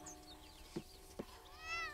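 A cat meows once with a rising, drawn-out cry near the end, after two short thumps, over a steady low hum.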